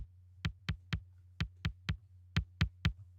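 A punchy kick drum thumps alone in an uneven pattern, nine hits with short gaps, over a steady low hum.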